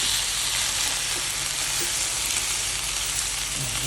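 Fish browning lightly in a frying pan for sinigang sa miso, a steady close sizzle and crackle of hot oil running without a break and with no talk.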